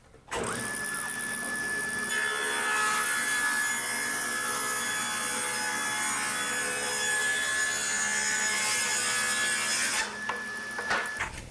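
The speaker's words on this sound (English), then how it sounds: "Each time after I rip off a strip of veneer, I rejoint the edge the same way as before and then make another cut." Table saw rips a thin strip of wood veneer in one sustained, loud cut lasting about ten seconds, a steady bright whine with a rough rasping edge, then the blade spins on briefly after the cut ends.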